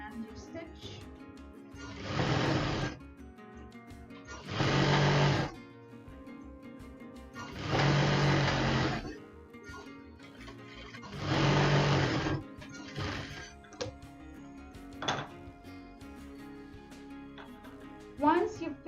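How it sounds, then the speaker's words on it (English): Sewing machine stitching the side seams of a non-woven bag, running in four steady whirring bursts of about one to two seconds each, separated by pauses with light handling noises, fairly close and clear. "So you match up your side seams and you stitch."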